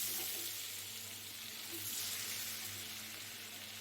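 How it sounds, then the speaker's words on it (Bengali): Paneer frying in butter and oil in a kadai, a soft steady sizzle and crackle that stays close and faint throughout with no voices. "আমি একটু নুন আর হলুদ দিয়ে পনিরটাকে ভেজে নেব।"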